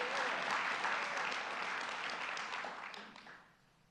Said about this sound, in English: Commissioners don't usually get applause like that